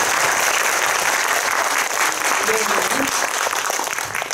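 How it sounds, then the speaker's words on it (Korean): An audience applauds at a film screening Q&A in a cinema, with dense, continuous clapping filling the room and a faint murmur of voices beneath it. "큰 박수 부탁드립니다"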